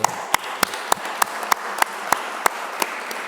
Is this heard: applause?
yes